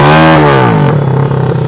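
Motorcycles rev loudly and close on a street in San José, Paraguay, a continuous roaring engine whose pitch climbs and then falls off, with no talk over it.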